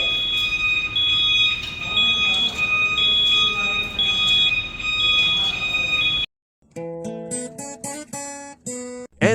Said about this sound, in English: I will show you on how to work the conventional fire alarm system.